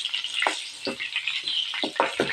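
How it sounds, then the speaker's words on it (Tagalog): Longganisa sausage frying in hot oil, a steady close sizzle with bursts of crackling and popping spattering throughout, no voices. "ilang minuto na malapit na rin pong maluto itong ating nilulutong longganisa"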